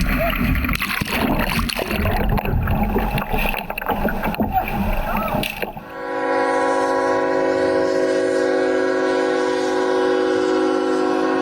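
A train at a railroad crossing: loud, rough rumbling and clatter fill the first half, then a sustained blaring horn sounds steadily and loudly to the end.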